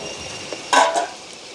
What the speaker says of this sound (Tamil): அப்படியே தக்காளி பழமும் சேர்ந்து வதங்கட்டுக்கும்